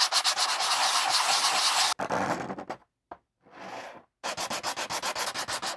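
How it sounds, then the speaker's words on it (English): Sanding the heel of a Dredd Lawgiver prop pistol: close, loud rhythmic strokes of sandpaper rubbing back and forth, pausing for a couple of brief scrapes and a softer pass before the steady strokes resume. "You may notice I give this a bit of a rock before I start sanding."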